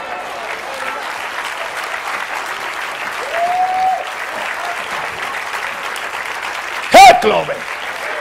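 Church congregation applauding during a sermon, a sustained, even wash of clapping throughout, with a voice calling out an exclamation near the end over the hands.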